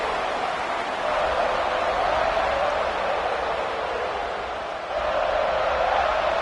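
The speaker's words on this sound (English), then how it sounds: "This crowd trying to make life miserable for this offense." A large stadium crowd at a college football game between Tennessee and Alabama roars as a steady, dense wash of noise from all sides, loud and sustained with a slight dip before swelling again.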